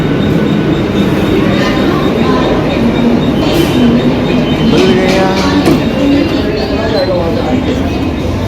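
Steady, loud rumble inside a moving air-conditioned suburban local train bound for Thane, with continuous wheel and track noise and a few faint squeals and clicks, close and unbroken throughout.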